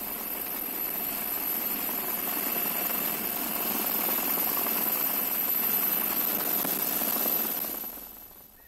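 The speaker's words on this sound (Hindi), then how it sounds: "कश्मीर की बाढ़ में भारतीय वायुसेना के हेलीकॉप्टर लगातार उड़ रहे हैं" An Indian Air Force helicopter flies during a flood rescue in Kerala, giving a loud, steady broadband rotor and engine roar that holds for about eight seconds and then quickly fades away, with no voices.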